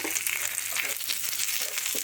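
Chopped onion and slit green chili stir-fry in hot oil for a Bengali jackfruit dish, giving a steady close sizzle with light scraping stirs throughout.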